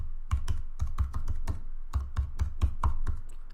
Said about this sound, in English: we'll type in envelopes online